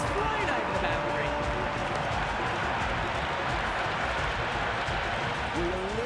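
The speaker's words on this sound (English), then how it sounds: "Will listen to that crowd." Cheering, applauding crowd at a Pakistan vs Zimbabwe cricket match in the video game Cricket 26, a loud, continuous roar with clapping that fills the whole moment under commentary.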